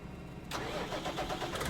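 Tractor engine in Farming Simulator 19 cranking and catching after a moment of near silence, then settling into a steady mid-pitched idle, close and moderately loud.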